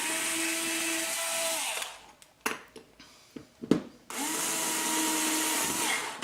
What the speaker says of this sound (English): we're gonna go ahead and use an 1/8 inch bit